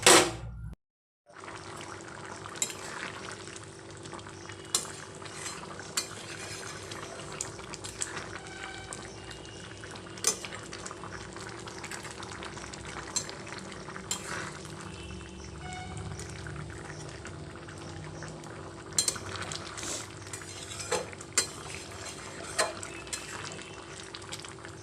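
Ghugni, a Bengali curry with potatoes and fried coconut, simmers in a pan. A steady low bubbling hiss runs throughout, with occasional soft scrapes and taps of stirring, close and moderately quiet.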